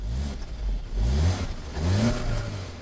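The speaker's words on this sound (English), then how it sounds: "I rev the engine so you can get a good idea of what the exhaust note sounds like" A 2015 Audi A3 2.0T quattro's engine revs up three times in quick succession, each rise and fall of the exhaust note distinct and close, with no talking over it.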